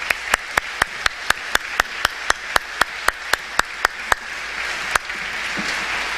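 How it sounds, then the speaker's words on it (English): Audience applause at a live school event, heard as a single loud, evenly spaced clap repeating about every quarter second over a soft crowd background, which then fades into scattered general clapping. "we can give them an applause"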